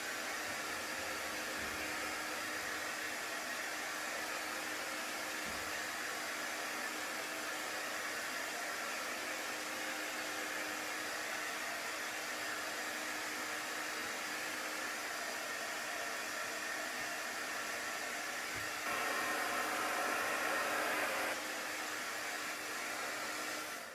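A hair dryer blows steadily on chalk paste over a painted craft house, a constant broadband whoosh held for the whole stretch with a brief shift in tone near the end, no voices.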